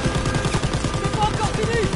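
Rapid automatic gunfire from a World War II shooter game, a steady fast rhythm of loud, close shots running throughout, with battle ambience and voices underneath.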